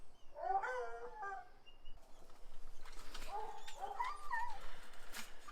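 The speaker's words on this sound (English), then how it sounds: "I've got one dog howling because he wants his turn out, and I got another dog howling because he found something in the tree." Two dogs howl in a garden, each in a drawn-out, wavering cry at moderate distance, one near the start and another a few seconds later, faint over quiet outdoor background.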